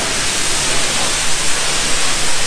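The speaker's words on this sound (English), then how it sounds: "I asked for high pressure soap and getting fuck all. I'm getting high pressure water." High-pressure water spraying at a self-serve car wash while an R33 four-door is being cleaned, a loud, continuous close-up hiss that stays the same throughout.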